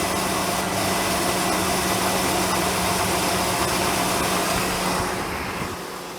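A car engine idles steadily after being revived with a jump starter, the steady low hum holding throughout and easing off slightly near the end, with no talking.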